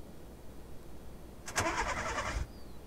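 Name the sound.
car engine starting after a push, from video game Vein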